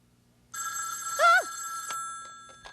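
A telephone bell rings nearby in a single sustained, loud metallic trill that wobbles in the middle, then decays into a lingering ring with faint clicks.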